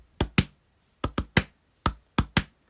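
Close, dull thumps of a hand beating on a chest to mimic a drum pattern, falling in quick groups of two and three with short silences between them.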